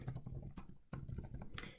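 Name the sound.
typing on a computer keyboard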